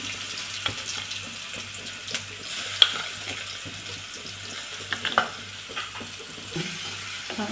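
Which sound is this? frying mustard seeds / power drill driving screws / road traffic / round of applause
frying mustard seeds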